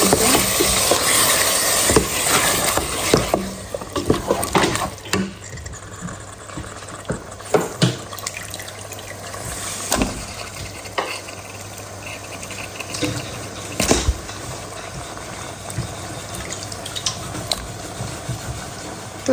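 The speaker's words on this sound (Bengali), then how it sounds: "এখানে ভালো মতো ধুয়ে রাখছি।" Cut beef pieces being washed in water for a bhuna curry, with steady watery splashing and rinsing through the whole stretch, broken by a few sharper knocks and clatters of pieces against the bowl; no talking.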